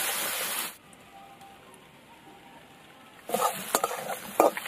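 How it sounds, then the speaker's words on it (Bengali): Chopped onions frying in a pan with dried chilli and whole garam masala, with a loud hiss at first, then a quieter stretch of low sizzle before vigorous stirring resumes with crackling and spatula scrapes. "পেঁয়াজটা ভালো করে একদম লাল করে ভেজে নেব।"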